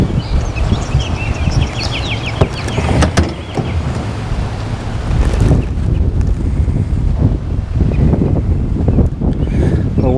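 Strong gusty wind buffeting the microphone outdoors during a fishing trip on the water, a loud continuous roar that swells and eases throughout, with a voice partly audible underneath.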